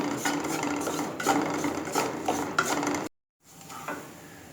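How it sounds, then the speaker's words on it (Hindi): Gram flour (besan) being roasted in a pan for kachori filling: continuous close scraping and rasping of a spatula stirring, with rhythmic strokes and a faint sizzle, then a brief gap before the stirring resumes. "कम से कम 2 मिनट के लिए मैं बेसन के साथ इसको भूनूंगी"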